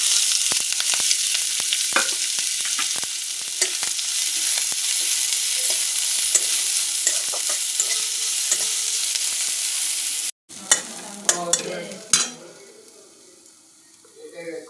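Finely chopped onions and chillies hit a small amount of hot oil, giving a loud, steady sizzle for about ten seconds. After a brief cut, quieter frying follows with scattered stirring clatters and scrapes.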